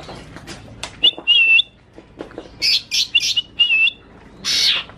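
A young green leafbird (cucak ijo, blorok type) sings close by, mimicking a golden bulbul song with loud, clear whistled notes and sharp chirps. They come in short bursts with brief pauses between them, and no one talks over it.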